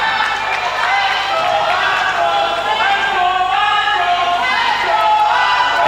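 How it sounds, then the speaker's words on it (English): A live wrestling crowd in Forfar roars and cheers continuously at a Scottish wrestling rumble event, loud and sustained with rising and falling shouts. "And you can hear the crowd here in Forfar behind Euan Ambrose"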